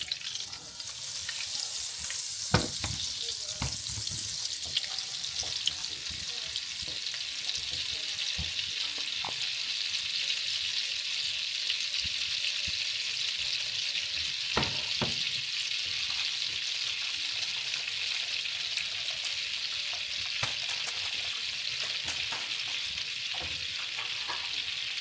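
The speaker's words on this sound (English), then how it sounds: "I heated the pan for the squash. I'm putting the butter in it, letting the butter melt." Butter melting and sizzling in a heated pan for squash, a steady close frying hiss that runs throughout, with occasional clinks and knocks of utensils against the pan.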